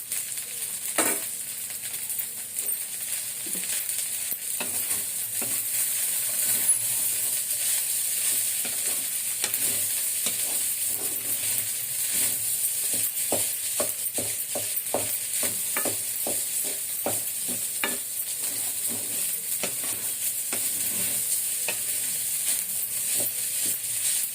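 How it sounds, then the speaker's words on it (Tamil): Vegetables sautéing in a pan for egg fried rice, a constant bright sizzle with repeated scraping stirs of a spatula at a steady pace, close and fairly loud, with no voices. "காய் வதங்கணும் 5 நிமிஷம்."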